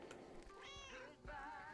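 Two soft, close meows, one drawn out and the next rising, from cats in a video game cat house, heard alone and faintly.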